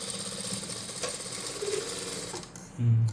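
A sewing machine runs a steady, rapid rattling stitch along the top edge of a blouse back piece, then slows and stops, followed by a brief low thump and hum near the end.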